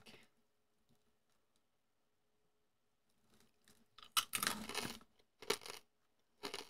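Close, crisp crunching of a crunchy peanut snack being chewed, a few faint bites followed by bursts of loud, dry crackling in irregular clusters with quiet gaps between.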